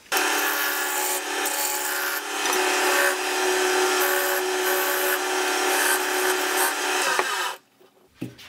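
Wood lathe turning a tenon on a wooden spinning top, a steady, close scraping and cutting rasp with a sustained tone that holds for about seven seconds before the tool lifts off and the sound drops away.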